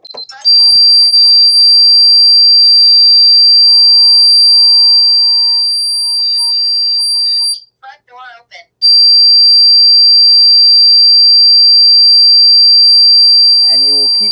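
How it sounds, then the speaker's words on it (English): A loud, piercing electronic alarm siren from a Qolsys IQ Panel 2 Plus security panel blares continuously, breaks off briefly with a few chirps, then resumes at full volume. "Once I remove this magnet from the actual contact, the alarm will go off."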